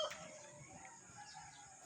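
Backyard pet chickens cluck and a rooster crows faintly in the background, a steady low farmyard murmur with no talking.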